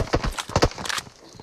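A horse's hooves clip-clop in several quick, close steps, then the sound thins out and fades.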